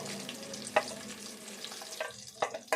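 Whole spices and onion frying in a pan for bagara rice, a steady close sizzle with stirring scrapes and a few sharp clinks of a utensil against the pan.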